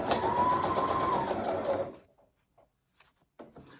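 A sewing machine stitches a zip-front peplum top in one close, steady whirring run of about two seconds, then stops, followed by a few soft clicks and handling taps.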